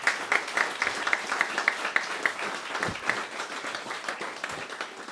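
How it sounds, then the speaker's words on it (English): An audience at a startup mixer claps for a panel of guest venture capitalists, a moderate, steady round of applause with some rhythmic clapping standing out and a few faint voices underneath. "Can we all give the panel a big round of applause?"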